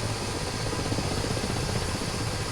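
A helicopter in a flight simulator mission gives off a steady, loud rotor and engine drone that stays constant throughout the short stretch with no other sounds.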